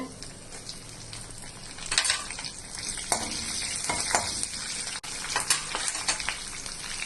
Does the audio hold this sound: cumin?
yes